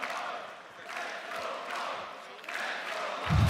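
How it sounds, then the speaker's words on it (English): A large crowd cheers at a Counter-Strike major in Budapest, swelling and fading in waves of distant roaring, with a louder burst at the end. "Cheering on Torzsi, cheering on Mouz."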